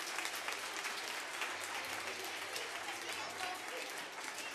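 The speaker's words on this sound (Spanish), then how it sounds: "Un aplauso, chicos" Schoolchildren at a quiz contest between two schools applaud in a steady, dense wash of clapping that stays fairly quiet and even throughout, with some voices mixed in.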